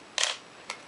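A camera shutter firing at 1/250 second, heard as a sharp mechanical clack followed by a fainter second click about half a second later, close and isolated against quiet background.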